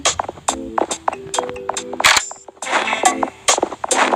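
Rapid bursts of video game gunfire, sharp cracks and pops in clusters with short gaps, interleaved with brief electronic tones and effects, loud and close with no talking.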